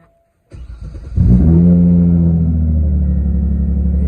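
A vehicle with a new exhaust is started by push button with the brake pressed: a brief starter crank, then the engine catches and settles into a loud, steady, close rumbling idle.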